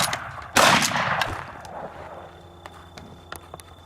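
A shotgun fires a double-aught buckshot mini shell, one loud close blast that booms and then decays into a long echoing tail, followed by faint scattered clicks and handling noises.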